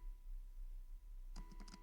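Typing on a computer keyboard comes in as a quick run of light, close key clicks after a stretch of low hum and near silence, faint overall.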